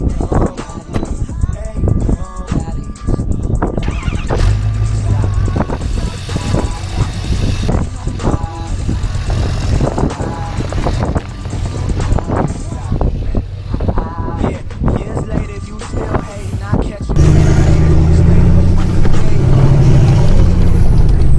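A Ford F-250 three-quarter-ton pickup truck drives along a road, its steady engine rumble and road noise running throughout and growing louder and rougher near the end, with some speech mixed in.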